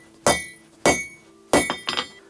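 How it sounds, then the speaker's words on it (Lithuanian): A blacksmith's hammer strikes hot steel at an angle while forging tongs, giving four loud, ringing metallic blows at uneven intervals, the last a quick double hit, with no talking. "Čia kalu truputį kampu, kad šiek tiek jisai spaudžiant kampu jisai išsitemptų."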